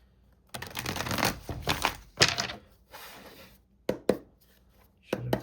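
Tarot cards shuffled by hand in a few quick riffling bursts, followed by pauses and a couple of sharp taps as the deck is squared, close and fairly quiet.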